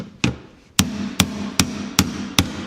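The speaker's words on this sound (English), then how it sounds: "That means I need this tool, the hammer impact tool." A hammer impact tool strikes Phillips screws on a Jaguar quarter panel in a barn find, six sharp metallic blows spaced about half a second apart, close and loud with a ringing tail after each.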